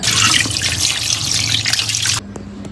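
Tap water gushes steadily into a sink while seafood rupchanda (pomfret) fish are washed, a close, loud, splashing stream that cuts off abruptly near the end, leaving a faint drip and hum.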